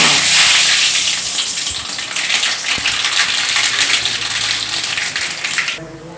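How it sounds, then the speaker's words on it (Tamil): Mustard seeds spluttering and crackling in well-heated oil in a pan, a loud, steady hiss of frying sizzle that runs nearly the whole time before dropping off at the end, with no talking. "எண்ணெய் நல்லா காஞ்சிருச்சு கடுகுத வறுப்போம்"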